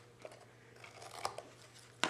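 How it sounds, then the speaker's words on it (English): Scissors trim excess paper on a small card-stock project, a few quiet, close snips and crisp cuts spaced irregularly, ending in a sharper snip, over a faint low hum. "take your scissors and trim off the little excess so it looks nice and flush everywhere"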